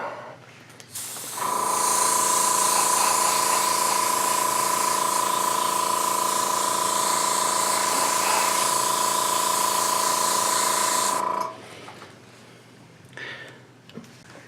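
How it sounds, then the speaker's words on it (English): An airbrush loaded with light gold gray model paint sprays onto a Hasegawa F-14 model kit in one long steady hiss, with a close, continuous whine that lasts about ten seconds before stopping, and no talking. "I've already got the airbrush loaded up, ready to go, and so let's get to painting"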